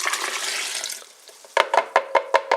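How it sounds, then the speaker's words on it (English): Water pours from a measuring cup into a bowl in a home kitchen, a steady splashing stream that tails off, followed by a series of short, evenly spaced clinks or taps. "So I'll add a cup of water as well."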